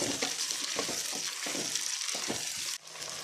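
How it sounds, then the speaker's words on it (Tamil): Radish and large gooseberry sautéing in a pan for a 21-vegetable kuzhambu, a steady close sizzle broken by repeated stirring scrapes, with a brief drop in level near the end. "இந்த முள்ளங்கியும் இந்த நெல்லிக்காய் பெரிய நெல்லிக்காய் இது ரெண்டையும் போட்டு வதக்கிக்கலாம்"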